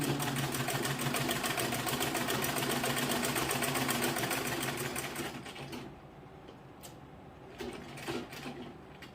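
Sewing machine stitching along a line on skirt fabric with lining, a fast steady mechanical whir with rapid needle ticking for about five seconds, then stopping to quieter handling clicks.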